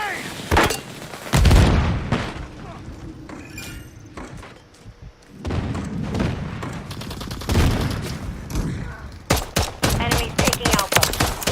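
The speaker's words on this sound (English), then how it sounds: "Throwing grenade!" Video game firefight with bursts of gunfire and heavy booms from a grenade blast, loud and close, with dense rapid shots clustering toward the end and brief quieter gaps between volleys.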